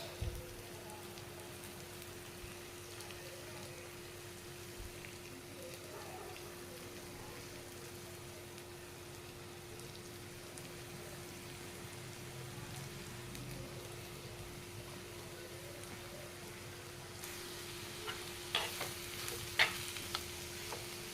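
Banana flower sautéed in oil for a Nellai-style thuvaram dish gives a soft, steady sizzle with faint stirring scrapes, low and continuous throughout, with a few sharper clinks near the end.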